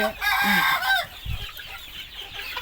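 Chickens cluck close by, with one loud drawn-out call at the start followed by quieter, scattered clucks.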